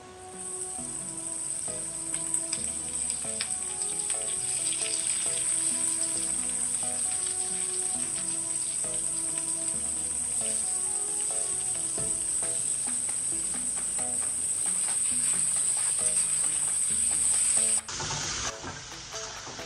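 Onion and green chilli hiss steadily in a pan with roasted dried Bombay duck, a constant bright sizzle under light clinks of stirring, cutting off sharply near the end.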